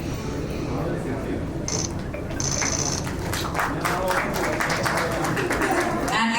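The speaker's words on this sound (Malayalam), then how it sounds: "നമുക്കൊരു കൈയടി കൊടുക്കാം." Audience applause breaks out at a film trailer launch award ceremony as a memento is presented. Scattered clapping builds into a fuller round over the second half, mixed with a talking voice.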